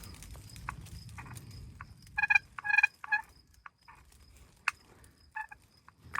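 Wild turkey hen in the desert giving short, sharp clucks and yelps in scattered bursts, fairly close and clear over quiet low background rumble.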